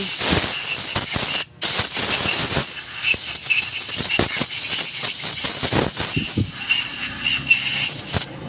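Compressed air is blown into an engine cylinder to test a valve that has stuck and won't run, making a continuous close hissing rush with a brief cutoff and scattered clanks and knocks.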